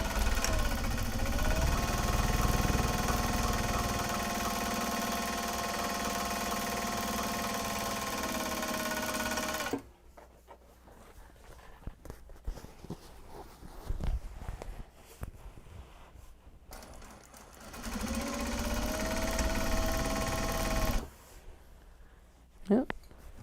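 A cranky home sewing machine stitching a Japanese fabric tote bag runs as a loud, steady motor whir for about ten seconds, stops for quieter shuffling and movement, then starts again for another long run.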